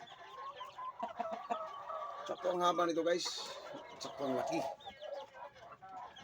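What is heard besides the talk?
chicken clucking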